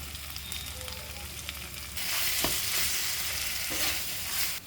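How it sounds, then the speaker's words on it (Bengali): Boiled chickpeas and fried potatoes dropped into a pan for chana paneer masala set off a sudden, louder burst of sizzling over a quieter background, with stirring scrapes audible afterward. "আমরা দিয়ে দেবো সেই সেদ্ধ করে রাখা চানা আর ফ্রাই হয়ে রাখা আলুটা দিয়ে ভালো করে এটাকে একটু কষিয়ে নেব"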